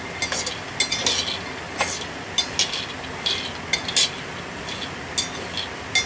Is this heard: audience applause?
no